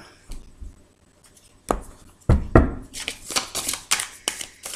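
A deck of tarot cards is cut and handled on a table, a few soft thuds followed by a rapid run of crisp card slaps and riffles, close and clear.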